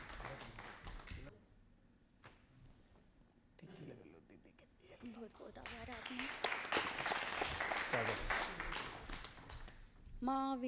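An audience at a humorous poetry gathering (kavi sammelan) applauds to welcome poet Vimla Mahariya on stage. Scattered clapping builds into a sustained wash of applause, with a voice talking over it.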